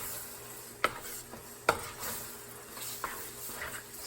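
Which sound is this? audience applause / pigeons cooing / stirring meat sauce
stirring meat sauce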